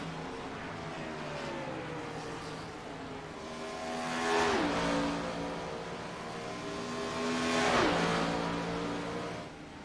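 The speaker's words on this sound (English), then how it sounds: "You can tell Tiernan is pushing that car to its limit." Race car engines wail on the Homestead oval in a Gen 4 season finale, rising and dropping in pitch as cars pass twice in quick succession, loud and close over a steady background roar.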